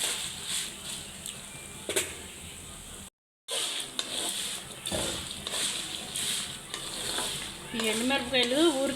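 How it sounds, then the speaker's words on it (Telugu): Dried red chillies frying in a very hot kadai, a dense continuous sizzle with stirring clatter and a brief dropout, near and loud throughout. "ఈ వేడికి ఎండుమిరపకాయలు తొందరగా ఫ్రై అయిపోతాయి"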